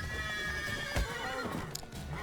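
A horse in The Witcher 3 game neighs and whinnies loudly, with a sharp burst near the middle amid clip-clopping hooves and steady game ambience, no voices over it.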